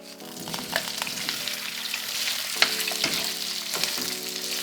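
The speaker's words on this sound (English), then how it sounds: "I basically had my beef frying in the oil for about 4 minutes" Oil sizzles steadily as beef fries, a continuous crackling hiss broken by occasional clinks and scrapes of stirring.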